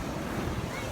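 Sea waves wash in at Red Moon beach, giving a brief, steady roar of surf mixed with wind rush and no voices.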